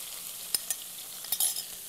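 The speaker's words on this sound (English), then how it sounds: "Let it sizzle and bubble." Steady hissing sizzle of chicken stir-frying in a thickening corn flour sauce in a pan, with a few sharp scraping clicks of a utensil stirring now and then.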